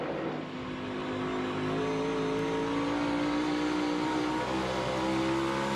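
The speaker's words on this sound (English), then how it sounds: "you'll hear their throttle is way less than what you normally hear" NASCAR Cup cars circle the Bristol dirt track on light throttle, a steady loud engine drone holding for several seconds with a sustained droning pitch, no voices over it.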